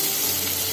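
Garlic sizzling in a generous pool of hot oil for bheja fry, a loud, steady hiss and crackle close to the pan with no talk over it.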